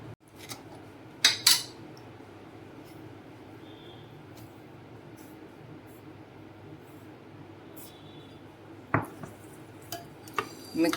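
A spoon or whisk clinks and scrapes against a bowl at scattered moments while mixing powdered sugar into curd, with a quiet steady background between the strokes.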